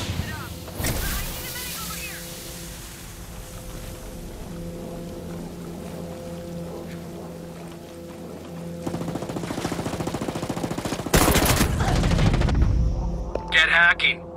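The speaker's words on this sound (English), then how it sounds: "I hear gunfire." Gunfire bursts in the Ghost Recon Breakpoint PVP shooter, a loud crackling volley near the start and a heavier, denser one later, set over a steady hum of game ambience and effects.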